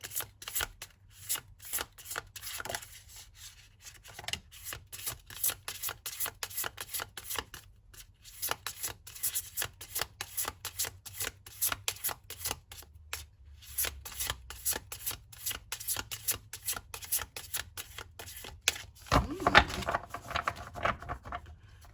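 Tarot cards are shuffled close up in a dense, steady run of soft riffling and sliding card snaps, with a louder, fuller burst of shuffling near the end.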